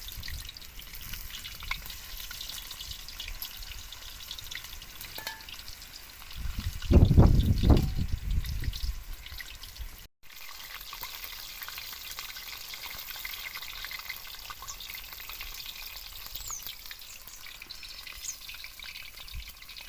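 Food fries in a pan at home with a steady, crackling hiss throughout, a louder burst of sizzling and stirring near the middle as something is added or moved, then settling back to an even sizzle with no talk.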